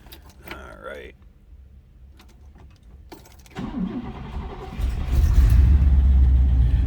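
A 1958 Oldsmobile 88 four-door hardtop cranks briefly after a few clicks and fires up, settling into a loud, close, steady idle rumble; a person speaks briefly before the start.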